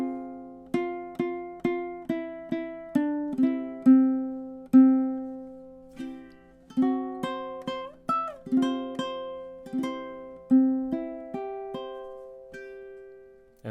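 Solo ukulele picking a gentle melody, measures 13 to 16, with clear plucked notes decaying one after another at an unhurried pace, close and quiet.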